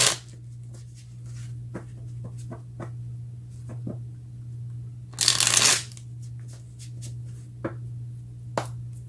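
Tarot cards being shuffled close by over a low steady hum: scattered soft card taps and flicks, then one loud dense riffle lasting about half a second, followed by a few more light taps.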